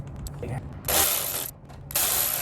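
A ratchet wrench turns a bolt on the steering of a 2002 Ford F250 during a dual steering stabilizer install, giving close, quick bursts of clicking in two separate runs.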